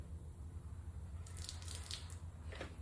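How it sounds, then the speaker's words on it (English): Degreaser poured onto a golf club grip area makes a faint, soft splashing and dripping sound close by, brief wet spatters over a low steady hum, with no talking. "And then of course I pour a little bit of degreaser on there."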